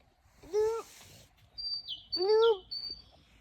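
Two short bursts of bird chirping in a grassy outdoor area with flowers, each a quick series of rising tweets accompanied by thin high whistles, fairly close and alone against faint background noise.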